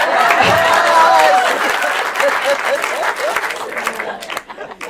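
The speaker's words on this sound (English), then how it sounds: "A round of applause." An audience bursts into a round of applause, loud dense clapping that swells at first and then thins out and tapers off, with voices calling out over it.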